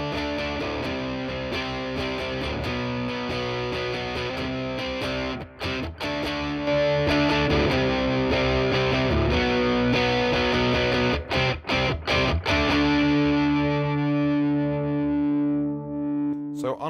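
Crunchy, distorted electric guitar played through a TC Electronic Spark Mini clean boost with a touch of delay, sustained chords and sharp picked notes ringing out with brief gaps, loud and up close.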